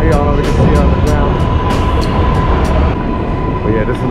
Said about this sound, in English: and then to my right hand passes the 7 train